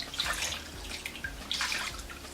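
Water splashes and pours in uneven bursts as feet are rinsed during a home pedicure, close by and moderately loud, with no talking.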